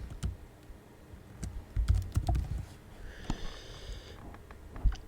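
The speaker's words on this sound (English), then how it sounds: "I'll type in the password" Fingers type a password on a computer keyboard during a Windows 7 setup, a quiet, irregular patter of close key clicks with short pauses between bursts.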